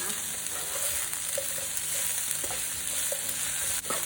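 Streaky pork with dried chili and salt stir-frying in a pan, a steady close sizzle with soft intermittent scrapes and taps of a stirring utensil throughout, with no voices.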